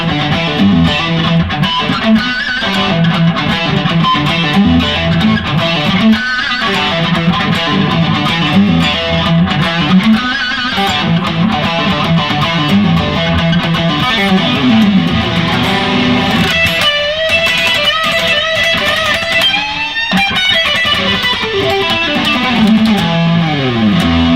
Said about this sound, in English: or you can kick on some distortion